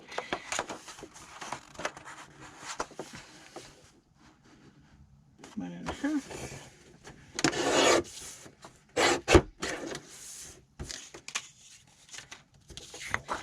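Scissors or a blade cutting paper for a vintage skinny day planner, with intermittent rasping, rubbing cuts and rustles that come in bursts separated by quieter pauses, close and moderately loud.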